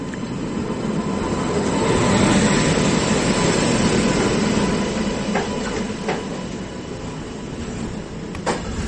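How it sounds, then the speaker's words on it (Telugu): The Hazrat Nizamuddin Rajdhani Express departs Kazipet station with a continuous loud rumble of rolling wagons. Faint rail clicks sound toward the end, and no voices are heard. "సో రాజధాని ఎక్స్ప్రెస్ అయితే స్టేషన్ నుంచి డిపార్ట్ అవుతుంది."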